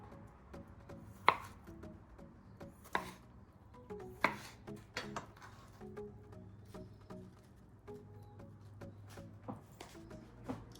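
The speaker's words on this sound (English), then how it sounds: "We are going to take some tomatoes and cut, these are cherry tomatoes," Knife cutting cherry tomatoes in half on a cutting board, a series of crisp, irregular close-up chops and taps with short pauses between, some louder thuds, quiet background and no voices.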